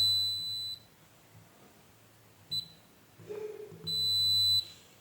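Multimeter continuity beeper sounding while testing pins on an automotive relay: a steady high electronic tone in three bursts, one long, one very short, then another long, close by, with faint clicks between.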